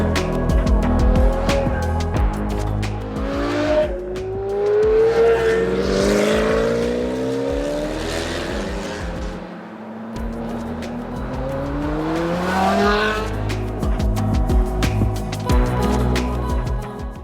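Classic naturally aspirated supercars pass and rev hard, with rising and falling engine notes that climb high, a gear change, brief tire squeal and a short lull before another loud, close surge of acceleration.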